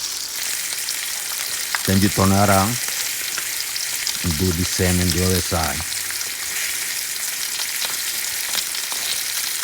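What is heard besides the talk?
thick tomahawk steak sizzling in a pan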